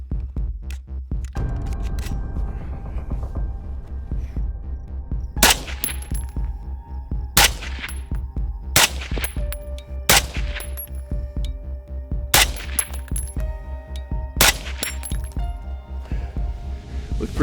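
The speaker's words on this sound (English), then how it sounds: "We fired 1 round to start, and then we printed our 5-round group." A new special-forces sniper rifle fired at a target, with six sharp, separate shots spaced about two seconds apart over a steady low background hum.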